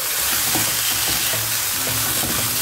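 Atta dough strands are stirred and tossed with fried, softened tomatoes in a hot pan, a steady sizzle with soft scraping stirs throughout and no talking.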